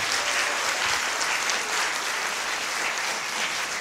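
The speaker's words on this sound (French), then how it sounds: "On les applaudit pour monter sur scène." An audience applauds at a film festival closing ceremony as guests are invited on stage, with dense, steady clapping that fills the hall at an even loudness and no clear voices.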